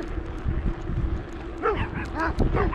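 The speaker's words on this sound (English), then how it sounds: "we got a lot of dogs over here on the left" A pack of big dogs barks and yips at a passing cyclist on a rural road, several voices overlapping in short bursts over steady wind and road noise, fairly close.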